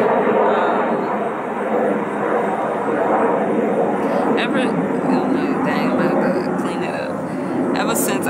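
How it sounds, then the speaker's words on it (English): Airplane passing overhead outdoors, a broad steady engine roar that holds loud throughout with a slight swell, no voices over it. "plane going by."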